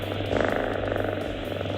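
A cat purrs close by in a steady, rhythmic, rumbling drone that continues without pause.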